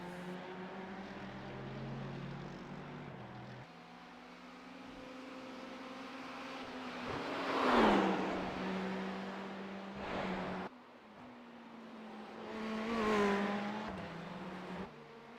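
Ferrari GT3 race car engine lapping the Nürburgring in iRacing, a steady harmonic drone with two rising, swelling revving passages, fairly loud and alone without talk.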